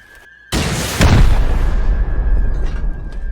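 A rocket launcher fires and its rocket explodes in the survival video game Rust, a sudden loud blast followed by a second heavier boom and a long rumbling roar that slowly fades.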